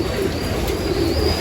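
Pigeons coo softly in a loft, low throaty calls repeating at moderate distance over a steady background hum.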